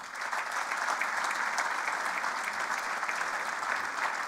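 Sustained applause from a political rally audience in Vitoria, a steady dense wash of clapping that holds evenly for the whole stretch with no voices rising above it.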